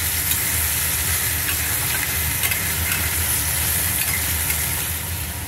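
Potatoes coated with salt and turmeric fry in oil for a Bengali-style ghugni, giving a steady, loud, dense sizzle and crackle that holds through the whole stretch without a break.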